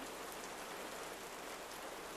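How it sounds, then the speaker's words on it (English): Steady rain falls on a tin roof as a dense, even hiss that continues without a break and with no other sounds. "A very long pause, filled only by rain on tin."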